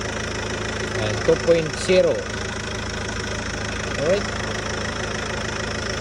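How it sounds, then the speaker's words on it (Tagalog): A 2.0-litre Chevrolet engine built under Daewoo idles with a steady, even drone throughout, while someone speaks briefly over it near the start and again later. "ito naman yung makina ng Chevrolet na pagmamayari ng Daewoo"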